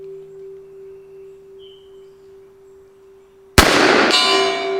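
A single loud shot from an Old West pistol firing .44 Special ammunition, abrupt and sharp after a quiet stretch with a faint steady hum, then followed by a ringing, echoing tail outdoors.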